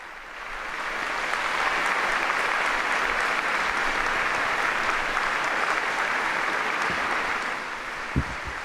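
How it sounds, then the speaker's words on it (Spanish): Sustained applause from a large crowd of faithful at a papal general audience, swelling quickly and holding steady for several seconds before tapering near the end. "acogido por los aplausos de los numerosos fieles presentes"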